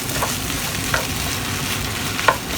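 Onions being stir-fried in a wok for chow mein give a steady, close sizzle with a few sharp scrapes and clatters of stirring scattered through it, and no voices.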